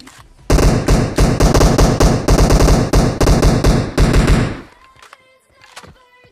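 Rapid automatic gunfire in PUBG Mobile, loud and close, a long stuttering stream of shots lasting about four seconds, then a few sparse clicks and taps afterward.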